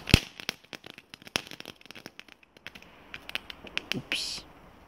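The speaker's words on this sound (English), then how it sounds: "It's beautiful fireworks of a little firework tank." A small tank loaded with fireworks burns up on New Year's, throwing out scattered crackles and sharp pops at uneven intervals, some close and loud, others faint, with a brief hissing burst near the end.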